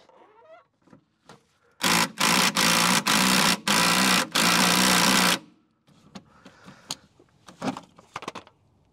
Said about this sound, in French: on va utiliser la clé à choc, ce qui devrait nous aider